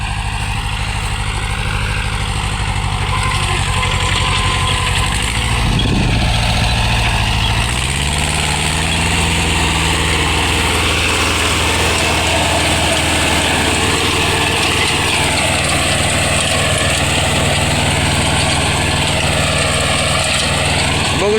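A Mahindra Jivo 245 DI tractor engine runs steadily with a 3-foot rotavator attached, giving a loud, close, continuous drone whose pitch wavers slightly as the load shifts.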